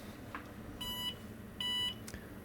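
A vintage IBM PS/1 486 computer gives two short, thin electronic beeps spaced under a second apart, quiet against a faint background hum.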